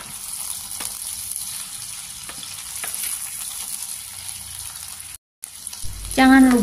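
Tempeh frying in hot oil, a steady close sizzle with occasional crackles and pops, briefly cut to silence before a louder burst of frying and a clattering, ringing clink near the end.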